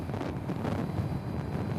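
Steady wind buffeting a helmet or body-mounted microphone while riding a Zero SR/F electric motorcycle on a sunny, windy day in the UK, a continuous low roar with no motor sound or voices.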